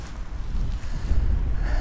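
Strong wind buffets the microphone from a kayak on a lake, a low rumbling roar that gusts and swells throughout.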